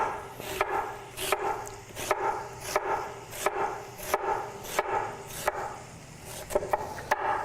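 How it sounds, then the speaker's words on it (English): A knife slices sweet potatoes into quarter-inch rounds on a cutting board. Steady, evenly spaced thuds repeat about every two-thirds of a second, close and fairly loud. "just slice these. And I want to go about 1/4 of an inch thick."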